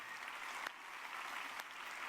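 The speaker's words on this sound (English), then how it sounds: "Let's keep on clapping" Continuous applause from a crowd, a dense even wash of clapping that holds steady throughout.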